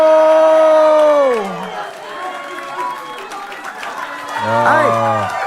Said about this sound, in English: round of applause for Simon, ladies and gentlemen.